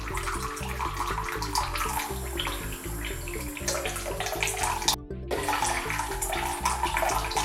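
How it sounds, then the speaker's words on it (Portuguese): Water running steadily from a tap, a constant broadband splashing rush that keeps going with a brief cut partway through. "Nós temos uma torneira aqui, tá? Tá correndo ali um pouco de água. Vou regular aqui para ficar só um fiozinho, ok?"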